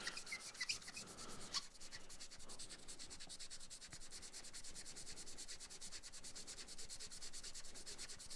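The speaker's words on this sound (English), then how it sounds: "just basically sanding off the rubber surface," Sanding off a rubber surface makes a steady, close rasping rub with a few brief scrapes near the start, continuous and fairly quiet with no talking.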